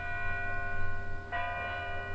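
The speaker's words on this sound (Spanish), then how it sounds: "las campanas de la ciudad de Soria, unas cerca, otras distantes, doblaban tristemente por las ánimas de los difuntos" Church bells toll in a city at night, some near and some distant, ringing tones sustaining with a fresh strike partway through; no voices.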